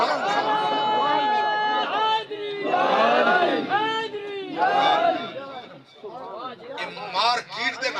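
A crowd chanting religious slogans at a gathering, many voices shouting phrases in unison in rising and falling waves, loud and close, with short pauses between the chants.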